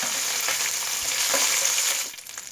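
Cumin seeds sizzle steadily in hot oil in a pan while tempering for a Tulu-style potato fry, a dense crackling hiss that holds close and even, then eases off near the end.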